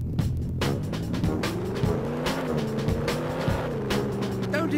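Car driving in the video game 007 Racing, a low revving engine tone rising and falling with bursts of skidding and impact noises, continuous and close.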